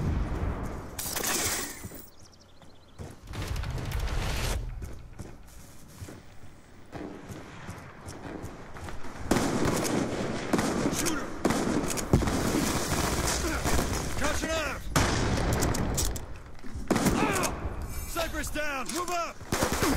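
In Call of Duty: Black Ops 2, a bomb drop lands as a series of heavy booming explosions and bursts of gunfire spread across the stretch, with some quieter gaps between the loud rumbling impacts.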